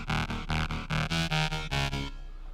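A Spire synthesizer dubstep lead built from two classic-waveform oscillators, one dropped an octave, plays a looping run of about eight bright, buzzy, harmonically rich stabs in a steady rhythm, then cuts off into a brief tail.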